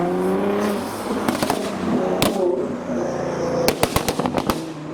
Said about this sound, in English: There is a noisy GTR providing some downshiftings